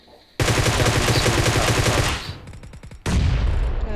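Rapid automatic gunfire in a battle royale video game, two loud sustained bursts separated by a brief pause with a few trailing single shots, close and dominant.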